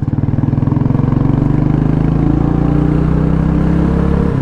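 An old Maruti Suzuki petrol engine, air-cooled with no sensors, runs loud and close with a steady rough pulsing rumble that rises slightly in pitch, alone without talk.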